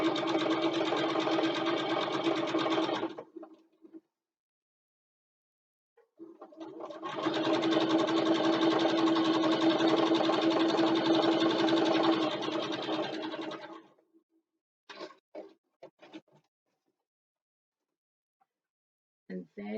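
Sewing machine running in two long bursts as it stitches a bag seam at a 3/8 inch allowance, steady and close, separated by a pause and followed by a few short clicks and handling noises.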